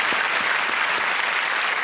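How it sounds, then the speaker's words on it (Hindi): A studio audience on a TV quiz show applauds a female contestant, a thick, even roar of many hands clapping without pause. "तालियों के साथ इनका अभिनंदन।"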